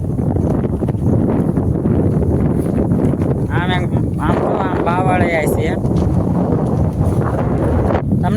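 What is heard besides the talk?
wind blowing in a farm field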